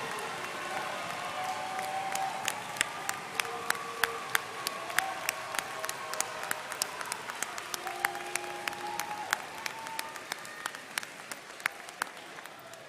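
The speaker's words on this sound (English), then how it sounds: "let's give all of our graduates another round of applause." An audience at a 2022 high school graduation ceremony applauds the graduates, a sustained wash of clapping in a large hall with sharp individual claps popping out, fairly distant.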